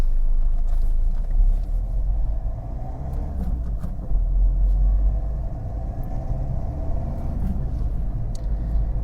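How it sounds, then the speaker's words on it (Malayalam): An old diesel car pulls away, its engine a deep, continuous rumble close by that swells slightly as it moves off, with no talking. "നമുക്ക് ജസ്റ്റ് ഒന്ന് വണ്ടി എടുക്കാവേ"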